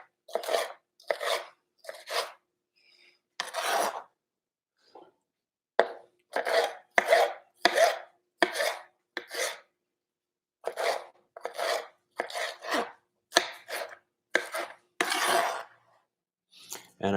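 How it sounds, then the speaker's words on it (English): Peppers being cut with a knife for a one-pan breakfast skillet, heard as bursts of crisp crunchy slicing and chopping, close up and separated by brief pauses, with no talking. "So we'll cut up some peppers."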